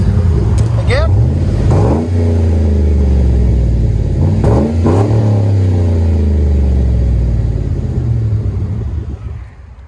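A Chevy Suburban with a 5.3L V8 revving through its exhaust, heard up close and loud: a couple of sharp throttle blips rise and fall over a steady rumbling idle, then the engine settles and fades.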